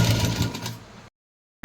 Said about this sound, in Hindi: अब इसको मोड़ के ऐसे एक लंबी सिलाई लगाएंगे